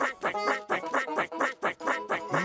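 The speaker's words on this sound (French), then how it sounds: "avec le bruit que faisaient ces canards" Cartoon ducks in a children's animated tractor series quack in a rapid, continuous run of loud, nasal calls, several overlapping bursts close by with no talk.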